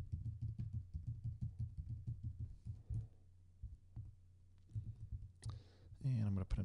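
Typing on a computer keyboard to enter credit card details into an online donation form, a quiet run of rapid key clicks with a soft, low hum underneath.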